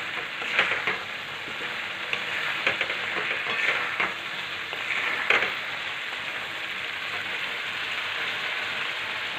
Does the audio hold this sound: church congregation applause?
no